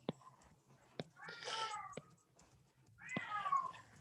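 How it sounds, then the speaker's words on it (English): A house cat meows twice indoors, two drawn-out whiny cries about two seconds apart, fairly close, with a few sharp clicks and knocks between them and no speech. "that's my cat"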